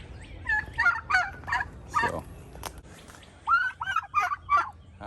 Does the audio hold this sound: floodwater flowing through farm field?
no